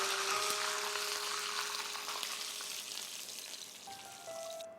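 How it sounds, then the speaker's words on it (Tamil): Mustard seeds crackling and sizzling in hot oil with curry leaves, a steady broadband fry hiss close up that thins slightly toward the end, with faint tonal hums behind it and no talking. "இது கொஞ்சம் நல்லா கலர் மாறவும் நம்ம இதில் கடுகு சேர்த்துக்கலாம்."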